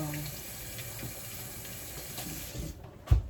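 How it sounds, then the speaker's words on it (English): A kitchen tap runs steadily while an orange is rinsed beneath it, a continuous close splashing hiss that ends with a sharp knock. "wash the orange off"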